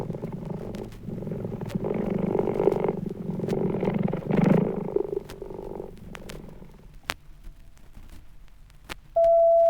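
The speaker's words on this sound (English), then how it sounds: "Like all cats, cheetah can purr, often when suckling." A cheetah purrs in a steady, rhythmic rumble for several seconds, then falls quiet. A brief electronic tone closes the sound.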